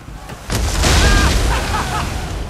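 A loud booming cannon blast kicks in and rumbles on, with a shouted voice and faint whistling tones over the roar, in the video game Assassin's Creed 3.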